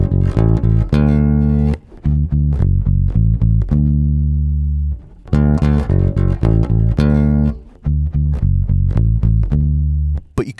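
Bass guitar plucked regular finger style in a 12-bar blues turnaround, brighter and fuller than muted playing: a steady run of punchy low notes with a couple of brief pauses, close and solo with no talking.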